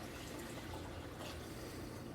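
Water pours steadily into a cooking pot, a continuous dense rush of liquid with no pauses.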